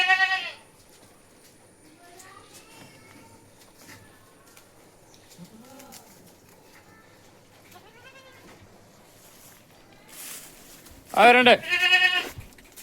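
Malabari goats, some of them recently kidded, bleat on a farm: a loud bleat opens, scattered softer calls follow, and a strong burst of close bleating comes near the end, with a brief voice in between.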